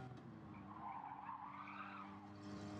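Race cars in Gran Turismo 7 at St. Croix, a Porsche and a GTR, tires squealing and skidding as they bump together, a steady engine drone under a rising and falling screech, fairly faint.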